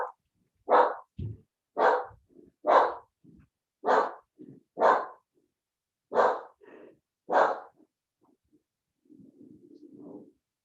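A dog barks sharply at an arriving delivery, about eight loud, evenly spaced barks close by with short breaths and grumbles between them, then a low growl or whine at the end.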